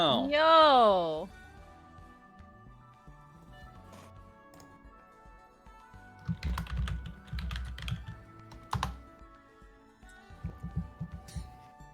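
Keyboard keys clatter in short irregular bursts as names are typed into Discord during an online Dungeons and Dragons session, close-miked, with a brief vocal sound at the start.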